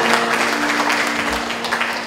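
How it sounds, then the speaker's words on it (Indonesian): Congregation applause during a church sermon: a steady, dense wash of clapping from a crowd that holds for the whole stretch and eases slightly toward the end. "Tepuk tangan buat kita"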